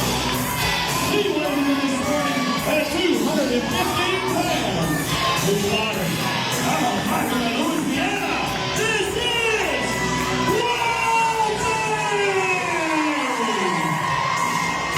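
Loud, sustained ovation from a wrestling crowd, a continuous roar of cheering, whooping and yelling voices. Scattered shouts rise and fall over the dense mass of noise throughout.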